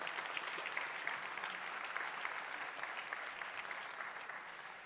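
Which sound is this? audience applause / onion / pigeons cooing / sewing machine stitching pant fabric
audience applause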